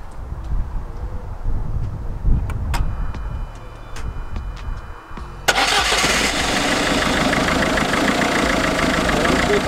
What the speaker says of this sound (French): Vous pouvez constater, le véhicule met en route direct.